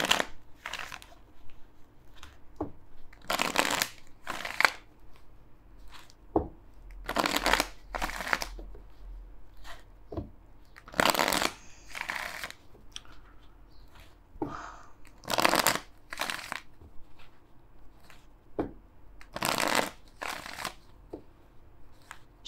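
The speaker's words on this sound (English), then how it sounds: "Let's pull some cards for what's up with Libra romantically." Tarot cards shuffled by hand in repeated crisp riffling bursts, close and clear, separated by short quiet pauses with light card handling between.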